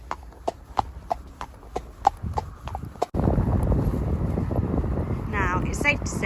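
Hooves clip-clop in an even, walking rhythm as a horse is ridden out on a hack. A heavy rush of wind noise swamps the sound halfway through.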